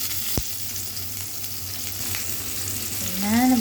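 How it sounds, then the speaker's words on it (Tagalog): Onion, garlic and ginger sauté in a pan with a steady, close sizzle, a sharp clink near the start and a louder hiss swelling near the end as the ingredients are stirred. "Ayan na, nabutang na sibuyas, garlic, ginger."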